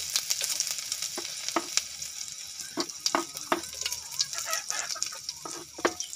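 Ginger frying in thick coconut milk in a heated pan, a close steady sizzle broken by frequent sharp stirring clicks and scrapes, with faint clucking chickens nearby and no talk.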